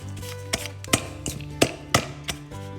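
Several butter knives chop through crumb topping for banana muffins in a bowl, giving about seven sharp, close taps at an irregular rhythm over a faint background hum.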